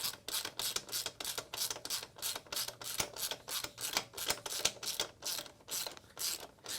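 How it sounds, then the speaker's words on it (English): A socket ratchet clicks in steady rapid bursts while loosening a bolt on the rear shock of a Honda CB1000R motorcycle, heard up close with no talk. "this is a 17mm, so this side 17mm socket, and remove this."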